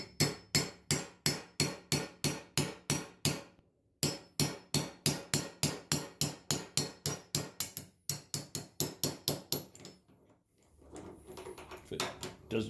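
A 12-gauge slug is punched through a shotgun choke from the chamber side with rapid, evenly spaced sharp metallic hammer taps, close and loud, in several bursts with brief pauses.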